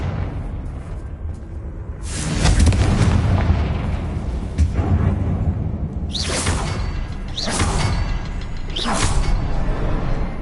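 Fiery Confringo blast spells in the Hogwarts Legacy game go off as loud, booming explosive bursts, one big blast followed by three sharp whooshing impacts in quick succession over a rumbling, continuous battle din, with no talking.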